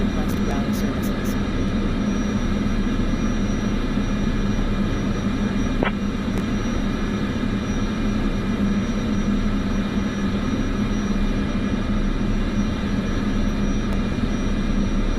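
Aircraft engines in Microsoft Flight Simulator 2024 hold a steady, loud, even drone throughout, with a few faint clicks early on and no voices.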